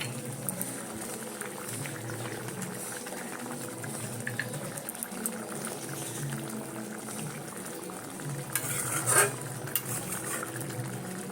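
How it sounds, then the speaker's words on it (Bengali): A pot of water with lemons boils for lemon fish, giving steady, close bubbling and simmering with a brief metallic clink near the end. "দেখো আমি আট দশ মিনিট পরে এসছি ফুটে গেছে"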